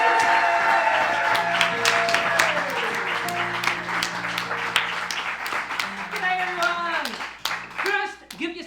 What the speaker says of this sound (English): please, huge round of applause to welcome formerly known as